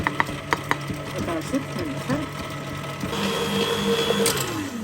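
An electric mixer whirs through revani batter of eggs, sugar, baking powder, semolina and flour, a steady motor drone that intensifies and rises in pitch partway through, with faint clinks early on.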